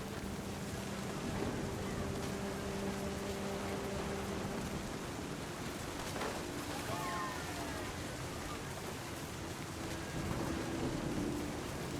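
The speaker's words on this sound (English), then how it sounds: "The thunder sounded much too close and full of angry power." Thunder and heavy rain in the video game What Remains of Edith Finch form a dense, steady roar of rainfall with low rumbling thunder rolling underneath throughout.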